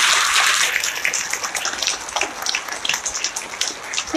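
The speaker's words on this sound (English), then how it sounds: "Let's give them all a round of applause." Dense, steady applause from a town hall meeting audience honoring police and sheriff teams, a close, crackling patter that thins slightly toward the end.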